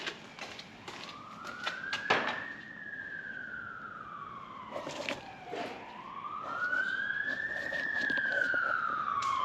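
A police siren passes, its wailing tone sweeping up and down twice at moderate distance over a low background of traffic and faint knocks.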